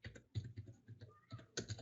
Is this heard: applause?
no